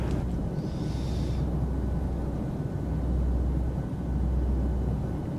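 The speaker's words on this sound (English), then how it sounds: "Listen to them engines, man." Aircraft engines drone at cruise around 30,000 feet in Microsoft Flight Simulator 2020, a steady low rumble with no speech and a faint brief tone near the start.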